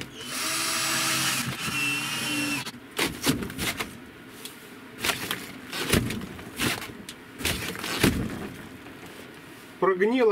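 A power screwdriver driving screws to fasten a replacement wooden brace outdoors in the forest in winter, several separate whirring bursts of a few seconds each with pauses and handling noises between them, close by.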